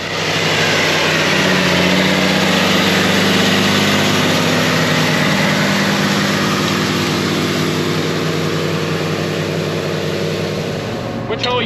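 A John Deere 8430 tractor engine runs at a steady, loud roar with a deep low rumble and broad mechanical noise, heard from the cab without letup.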